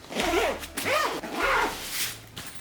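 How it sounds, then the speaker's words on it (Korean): A compression zipper on a travel backpack is pulled around the pack in three or four sweeping strokes, each a rising and falling rasp, close and fairly loud, with no talk. "이 가운데 있는 압축용 지퍼를 이렇게 둘러놓으면"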